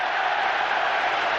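A football stadium crowd at Manchester United vs Liverpool in the 1997-98 Premier League gives a steady, broad roar that holds evenly throughout without a break.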